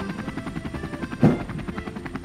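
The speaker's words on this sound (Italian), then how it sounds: "Guarda, sta arrivando un elicottero" A cartoon helicopter arrives with a steady, close rotor chop that beats evenly throughout, with one brief louder thump partway through.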